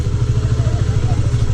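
A motorcycle engine runs close by with a steady, loud low-pitched throb and a rapid pulsing rhythm, with voices heard alongside it.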